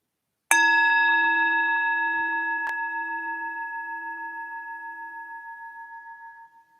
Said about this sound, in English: When you hear the next bell, use this bell to draw a few deep breaths in